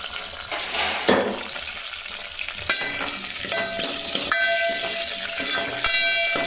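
Four broken dried red chillies fry in hot oil for tomato rasam, a bright crackling sizzle punctuated by scraping stirs and metallic clinks of a spoon against the pan, heard up close with no speech.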